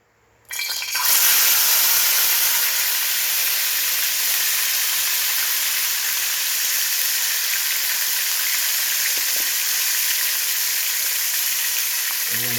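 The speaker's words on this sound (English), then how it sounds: "I'll be putting in my pot roast now to brown" Pot roast beef browning in a hot pot gives a loud, steady sizzle and crackle that begins abruptly and holds without a break for about twelve seconds, with no talk over it.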